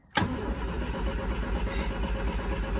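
A Triumph Spitfire engine, in neutral with the choke out, cranks close by as a loud, sustained churning that starts abruptly and runs unbroken to the end without catching.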